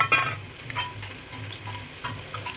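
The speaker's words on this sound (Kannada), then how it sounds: "ಒಗ್ಗರಣೆಗೆ ಒಂದು 4 ಮೆಣಸಿನ್ಕಾಯಿ ಹಾಕಬೇಕು" Green chillies and garlic paste sizzling in hot oil as tempering for village-style biryani, a steady close frying hiss with occasional stirring clatter, no voices.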